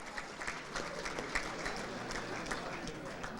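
Applause from the audience at a school athletic hall of fame ceremony, a steady spread of clapping from a crowd heard fairly faint and even across the room, with some voices mixed into the background.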